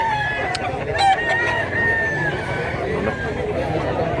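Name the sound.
rooster crowing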